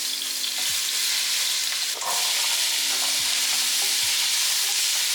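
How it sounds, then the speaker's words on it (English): Vegetables and minced garlic frying in olive oil in a pot sizzle steadily and close up, with a few soft stirring knocks and scrapes breaking through the hiss. "We're going to add our veggies and our minced garlic."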